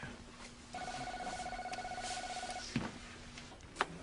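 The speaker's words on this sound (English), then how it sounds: "I heard the phone ring." A telephone rings indoors with a single faint electronic tone lasting about two seconds. A couple of soft clicks and knocks follow in a quiet room.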